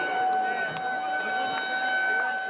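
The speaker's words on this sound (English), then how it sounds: "Okay, well, the siren goes." A siren sounds at a horse racing track on Champions Day, steady tones held throughout under a busy crowd-like background, with speech faintly mixed in.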